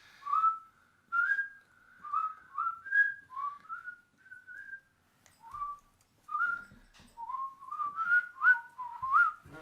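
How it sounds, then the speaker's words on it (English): A person whistles a working song before digging, a clear solo melody of short rising and falling phrases with brief pauses, close and alone with no other sounds. "Before we start digging, I'm gonna whistle a male song"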